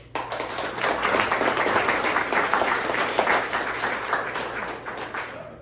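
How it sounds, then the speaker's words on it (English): Lecture audience applauding a storyteller at an evening talk, dense clapping swelling quickly and holding steady for several seconds before tapering off, with no one speaking. "Please give a huge round of applause for Harvey Leake."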